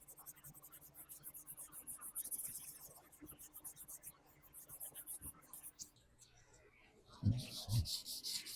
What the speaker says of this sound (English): Now I'm using a less of an abrasive sandpaper.